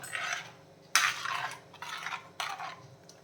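Fish curry ingredients for a Kerala-style curry are stirred in a metal pot, with several distinct scraping strokes and clinks of the spoon against the pan, loud and close, with no talking.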